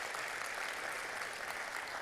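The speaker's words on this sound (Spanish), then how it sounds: "Démosle un aplauso también a ellos," An audience applauding a school teaching committee, dense continuous clapping filling the room throughout.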